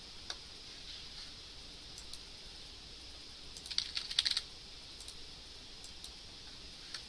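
A computer keyboard being typed on gives faint, scattered key taps, with a short cluster of clicks in the middle, against a quiet, hissy room background.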